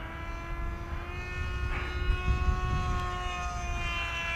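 The electric motor and propeller of an AtomRC Dolphin Pro RC plane whine steadily in flight, a sustained tonal drone with faint pitch shifts under light background noise.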